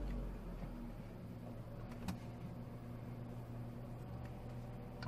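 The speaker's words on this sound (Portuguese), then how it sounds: "porque eu acabei de ligar o carro agora." A manual car's engine idles steadily just after starting, at just over 1,000 rpm, with a low, constant hum and faint mechanical whir, continuous throughout with no talking.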